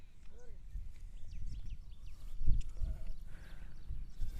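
Sheep and lambs bleat in a shed, with several short calls over low background noise and a dog nearby, while people talk quietly.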